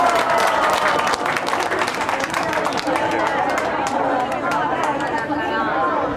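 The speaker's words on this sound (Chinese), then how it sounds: "我哋大家再摆来去掌声鼓励啊" A village crowd claps at an outdoor gathering, brisk applause that thins out over several seconds while people chatter around it.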